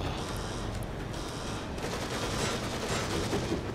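Sustained gunfire from the video game The Evil Within, a dense, continuous barrage of shots at steady loudness filling the whole stretch with no talk over it.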